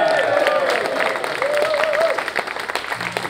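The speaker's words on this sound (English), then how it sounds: "We need a very, very big round of applause" Loud audience applause and cheering at a live music gig as a performer is called to the stage, steady dense clapping with a voice talking over it throughout.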